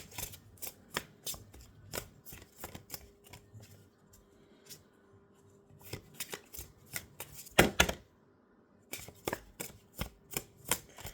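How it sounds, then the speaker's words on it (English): Tarot cards shuffled by hand in a quiet room, a run of crisp riffling snaps and taps at an uneven rhythm, with a louder burst of cards fanning and falling partway through, all close and without talk. "I'm going to shuffle a little bit more."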